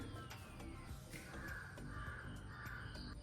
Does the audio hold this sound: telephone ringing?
no